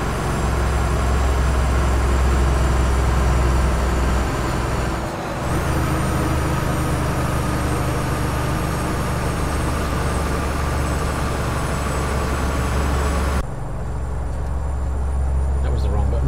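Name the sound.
truck engine driving over a bridge in Euro Truck Simulator 2 video game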